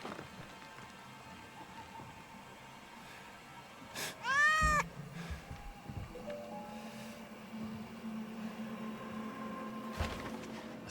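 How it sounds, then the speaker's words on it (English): A cat meows in the video game Indiana Jones and the Great Circle, one clear rising-falling meow near the middle, heard close over steady ambient game sounds of water and surroundings, with no talking. "This cat is my new best friend."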